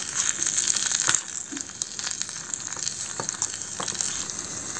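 Flattened rice poha is stirred in a tiny miniature cooking pan, giving a continuous dry scraping and crackling sizzle with occasional sharper clicks of the spoon, close and steady.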